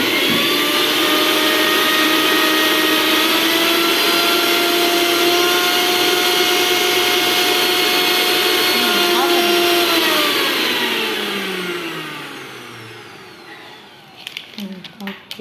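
A juicer mixer motor runs with a loud, steady high whine, then slows and winds down near the end, followed by a few light clicks.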